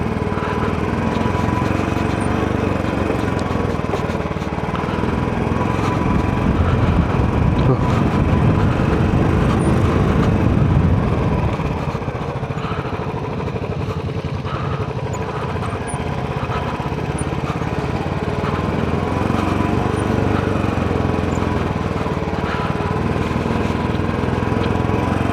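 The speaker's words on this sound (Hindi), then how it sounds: "पहले गियर पर उतरेगी बाइक धीरे धीरे।" A motorcycle idles and putters steadily in first gear as it rolls slowly down a steep, zigzag hill road near Mussoorie. The engine drone is close and loud and continues unbroken throughout.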